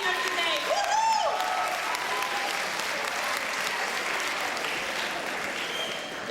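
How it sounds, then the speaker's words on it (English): An audience applauds at an event, a dense, sustained wash of clapping that stays steady and loud throughout, with a brief cheer near the start. "I want a big round of applause for you guys for being so awesome for being here today"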